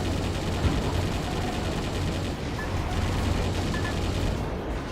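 Steady gunfire with softer bullets in a mech combat video game, a continuous dense rattle of rapid shots at a moderate level with no pauses and no talk.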